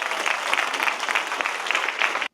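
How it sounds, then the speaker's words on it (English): A room full of people gives a warm round of applause for a Kinship Care ambassador, steady dense clapping that continues evenly and then cuts off abruptly. "So let's give him a big round of applause."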